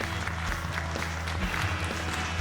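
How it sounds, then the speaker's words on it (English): An audience claps after an evening show in Trento, Italy, steady applause running throughout over a low, humming musical tone. "we owe him a huge clapping."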